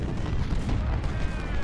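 Cannon fire booms in the Ultimate General: Civil War strategy game, a dense, loud, continuous roar of battle with overlapping blasts and no gaps.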